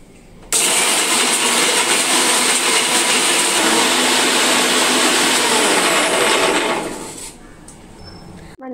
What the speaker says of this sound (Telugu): ఇప్పుడు ఈ మసాలా దినుసులను అయితే మిక్సీకి అయితే పట్టేసుకుందాం